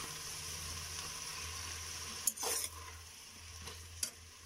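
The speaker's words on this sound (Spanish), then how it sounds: "Para que se cosan nuestras salchichas, que se frían." Sausages fry in a pan for a chipotle sausage dish, giving a steady sizzle under a low hum, with a few quick scraping stirs of a utensil against the pan.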